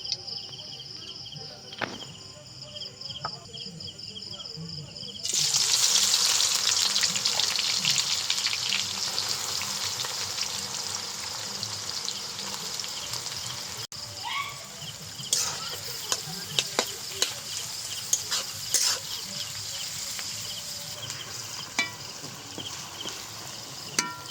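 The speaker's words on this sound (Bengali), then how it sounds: "এবার প্রথমে বেরেস্তাগুলো ভেজে নেব। তার জন্য কড়াইতে দিয়ে দিলাম সাদা তেল।" Sliced onions for biryani beresta fry in white oil in a kadai, a sudden surge of bright, steady sizzling that keeps crackling for many seconds with occasional utensil taps.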